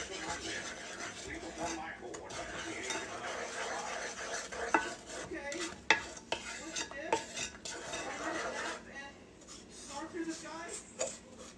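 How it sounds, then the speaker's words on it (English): A candied yam mixture stirred in a pot over medium heat, with a utensil scraping and clinking against the sides in an irregular rhythm and a few sharper knocks, while a person talks throughout. "You want to mix it until it's combined and smooth."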